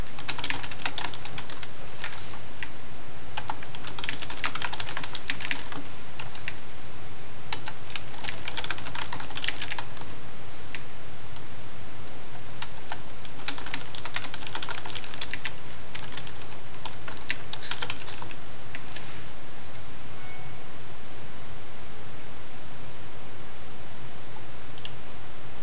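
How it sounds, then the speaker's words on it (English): Code is typed on a computer keyboard, with fast, irregular bursts of close clicking keystrokes and short pauses across the whole stretch, and no voices. "I'm going to type out all the code first."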